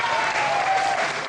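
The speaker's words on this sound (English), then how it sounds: "Clapping hands excitedly are the fire survivors who are cheering for the Tzu Ji relief items they are going to receive later today." Fire survivors gathered at a relief aid distribution clap and cheer excitedly, a dense, loud burst of crowd applause filling the short clip.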